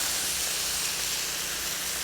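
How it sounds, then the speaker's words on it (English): Lime juice hits a hot pan with sliced pepper steak and sizzles loudly, a dense, steady hiss of steam that stays constant throughout. "I like seeing the steam off of the lime,"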